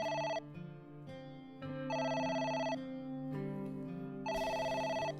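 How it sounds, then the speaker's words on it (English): A telephone rings in the video game AI: The Somnium Files, repeating electronic trill bursts in an even pattern, loud and clear with steady musical tones underneath and no voices. "It's the phone."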